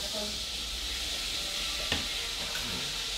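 Caramel sizzles in a saucepan with a steady, soft frying hiss throughout, close and fairly quiet, with a tiny clink partway through.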